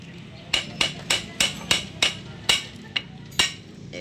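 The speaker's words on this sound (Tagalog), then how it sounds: "Ayaw nga matanggal, so papakpok natin kay Dags." A broken stud bolt being hammered out of a Raider 150 motorcycle exhaust, nine sharp metallic blows struck close by at an uneven rhythm over about three seconds.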